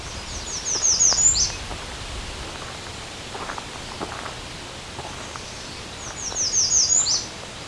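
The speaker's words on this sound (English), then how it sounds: "We've got a American redstart right here." An American redstart's high, rapid series of thin notes rings out twice, with a pause between songs, over a steady wash of rustling poplar leaves.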